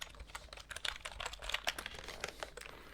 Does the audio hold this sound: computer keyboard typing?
yes